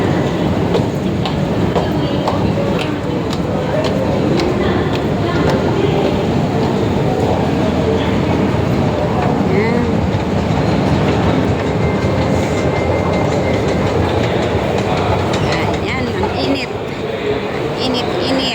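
An LRT train at Titiwangsa station in Kuala Lumpur rumbles steadily throughout, with rolling rail noise and faint clatter, while a person talks over it.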